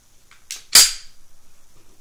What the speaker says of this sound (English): And then I reload mine because this is my everyday carry gun.